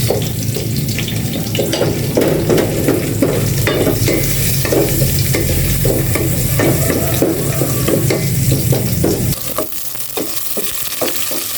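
Garlic and onion sauté in a pan for a mixed-vegetable dish, giving a loud, steady sizzle broken by repeated stirring scrapes, easing and thinning near the end.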